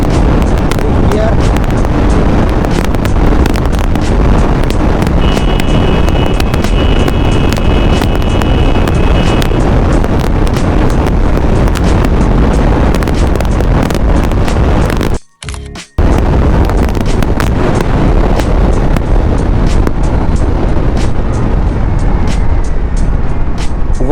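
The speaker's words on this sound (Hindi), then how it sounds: "वन 31 किलोमीटर पर आवर तक गई है हीरो मैवरिक 440X" A Hero Maverick 440X motorcycle at top speed, around 131 km/h, with steady loud wind rush and road roar throughout, a brief near-silent dropout midway, and a voice talking over it.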